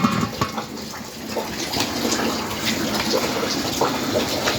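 Water heating in two large cauldrons over outdoor clay hearths built alongside a tandoor, a steady broadband rush and bubbling hiss that holds evenly throughout, fairly loud and close, with no one speaking.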